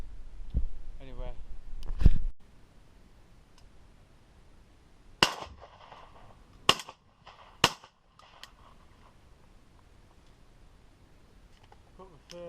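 Shotgun shots fired at pigeons flying over decoys on a bean field, several sharp loud blasts spaced a second or so apart, with some talk early on.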